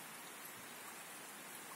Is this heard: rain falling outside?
yes